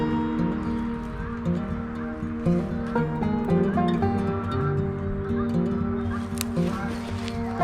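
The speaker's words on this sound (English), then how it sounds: "We get these geese over here as well, noisy buggers." Geese honk repeatedly in a noisy, overlapping chorus, calls blending together continuously with some rustling in the background.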